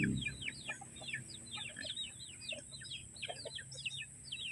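Chickens cluck and chirp in overlapping bursts, a small flock heard at moderate distance over a low background hum.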